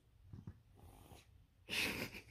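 A dog growls angrily in low, breathy rumbles, faint and close, rising into a louder snorting burst near the end.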